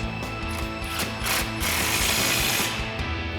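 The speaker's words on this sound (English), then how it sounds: "we'll tighten that back down with our 21 mil socket and our 21 mil wrench" Ratchet wrench with a 21 mm socket tightening a nut on a FOX Performance Series 2.0 rear shock on a RAM 2500, producing a rapid, continuous metallic clicking that grows louder midway, close by and without talk.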